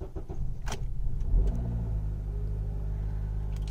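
Engine of a 2009 Acura TSX cranking and catching after fuel injector replacement, then settling into a steady low idle rumble close by, with no talk.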